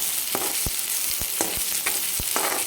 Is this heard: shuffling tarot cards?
no